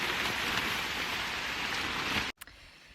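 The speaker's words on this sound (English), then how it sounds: "So about an hour into the day and it started pouring down rain." Heavy summer rain pours down steadily in a loud, dense hiss on the Camino de Santiago, then cuts off abruptly near the end, leaving near silence.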